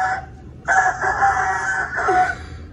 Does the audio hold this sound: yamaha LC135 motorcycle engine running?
no